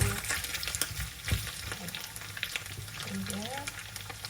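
Ginger sizzles and fries in a hot pan with a steady crackle, with occasional stirring scrapes and a brief low voice at a moderate distance.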